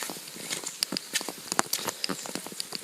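Rain patters steadily on a path near Buseoksa, a traditional Buddhist temple, with scattered sharper drips and splashes against a soft continuous hiss.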